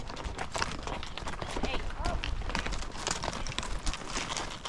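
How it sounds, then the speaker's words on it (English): Horses clip-clop in quick, busy hoofbeats during a spring horse drive on the Sprucedale Ranch, with steady, loud outdoor noise and a voice talking over the herd throughout. "This is Dean's 4th horse drive."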